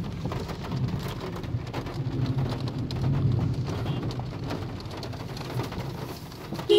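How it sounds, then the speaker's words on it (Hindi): Heavy rain pours steadily during a river flood, a dense continuous wash of falling water, loud and close, with a brief louder burst at the very end. "ते बारिश ही बारिश है"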